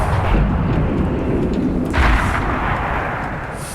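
A tank cannon fires in a tank video game during the AMX 30 match: a heavy, booming blast with a deep low rumble that decays slowly, loud and close, with no talk over it.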